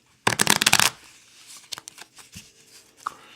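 A deck of playing cards is riffled and mixed in a loud, dense burst of rapid flutters lasting about half a second, followed by quieter scattered card taps and slides.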